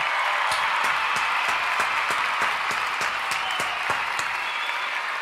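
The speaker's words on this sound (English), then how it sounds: "a round of applause for Angel" Applause for Angel during a WWE SmackDown review broadcast, a dense sustained wash of clapping with a few sharp individual claps standing out, steady and fairly loud for the whole stretch.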